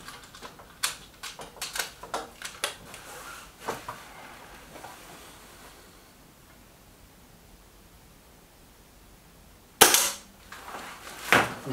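A Reximex Lyra air rifle is handled with a run of light mechanical clicks, then after a quiet pause fires a pellet at a target with one sharp, close crack, followed by further clicking.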